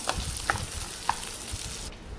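Peanuts and cashews being stirred into curry leaf powder in a pan, with soft scraping and a few light clicks of nuts against metal over a low, steady background, ending abruptly.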